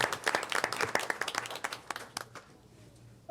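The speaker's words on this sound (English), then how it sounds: "So if we can give them a warm applause," A small audience at a school district board meeting claps for a few seconds, dense at first and thinning out toward the end, with light voices underneath.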